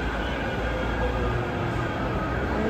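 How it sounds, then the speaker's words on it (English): A tram pulls into a stop with a loud, steady rumble of rail wheels and motor hum, close and continuous throughout, with no talk. "Oh, tram, how busy is it?"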